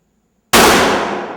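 A .50 Magnum fired at a small metal target: one sudden, very loud crack after a moment of silence, ringing out with a long decaying tail.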